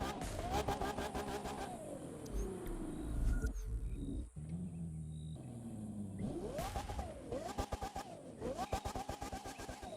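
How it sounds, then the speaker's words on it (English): The Tempesta supercar in the racing game The Crew 2 revs hard, its engine note climbing and dropping through repeated gear changes, loud and close, with a brief lull midway. "the first thing I actually noticed about the Tempesta is going to be the engine sound, which is going to sound insanely similar to many of the Ferraris"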